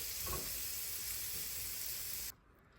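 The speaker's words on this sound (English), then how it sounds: "we're just gonna saute them until they start to get golden brown" Shallots and garlic sauté in a hot pan as a steady, close sizzling hiss that runs evenly for over two seconds, then cuts off abruptly.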